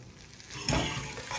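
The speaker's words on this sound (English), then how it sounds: "I'm actually going to heat this up in a pan all together" Food heats in a pan on a home stove, a soft sizzle that swells briefly into a louder frying burst before settling back to a low crackle.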